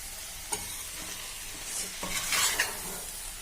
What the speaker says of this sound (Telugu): ఇప్పుడు కొంచెం సేపు ఇలా వదిలేస్తే కొంచెం ఫ్రై అవుతుంది.